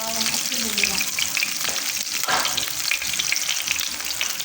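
Garlic and onion sauté in a hot pan. A steady crackling sizzle runs throughout, close and moderately loud, with occasional stirring scrapes.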